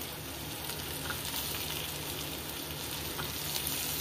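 Tomato goes into sizzling onions in a pan for a dry potato dish, making a steady, dense, close frying hiss throughout with faint stirring, and no one speaks.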